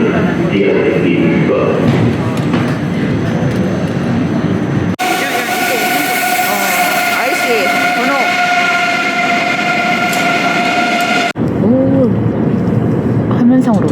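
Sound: train ride, interior sound of a moving train

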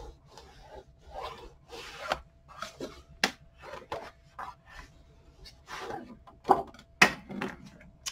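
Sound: burnishing paper on a cover

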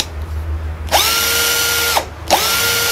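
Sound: cordless screwdriver from AliExpress running at high speed

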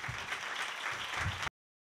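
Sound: applause

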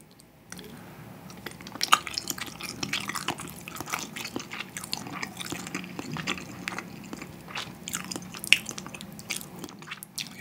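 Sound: chewing and biting Spam in budae-jjigae stew

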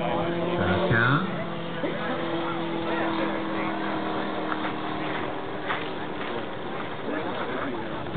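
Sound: radio-controlled model biplane engine with 32-inch propeller in flight

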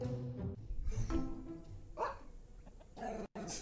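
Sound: puppy dog barking

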